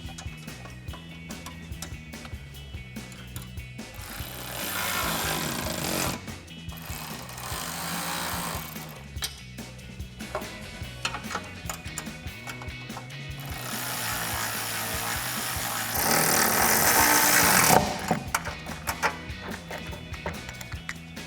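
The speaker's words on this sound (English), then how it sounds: "we can take a 4mm Allen socket and a 10mm wrench to tighten these down" Bolts on a 2019-2023 RAM 1500 front bumper install are tightened with a 4mm Allen socket and a 10mm wrench, producing quick ratcheting clicks in bursts, with a few louder stretches of continuous ratchet whirring, close and clear.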